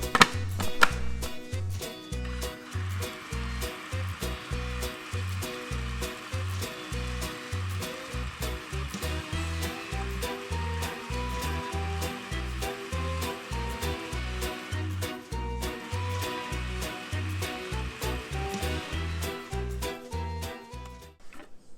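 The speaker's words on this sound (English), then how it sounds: "I'm going to pulse this in the meantime" Food processor pulsing pine nuts for basil pesto, rapid repeated bursts of whirring blade and rattling nuts in a steady rhythm, close and fairly loud with no talking.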